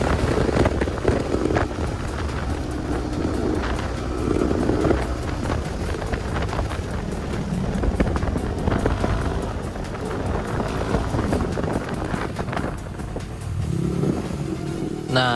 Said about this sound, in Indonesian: Kalian mau nikmatin suara anginnya nggak